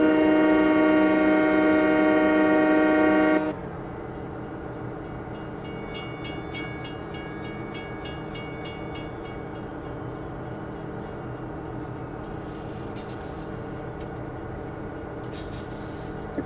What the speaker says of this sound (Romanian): Ce greu să oprește trenul, măi.